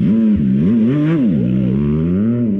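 An MV Agusta motorcycle engine revs steadily up and down, loud and close, with a rough, throbbing tone and no voices.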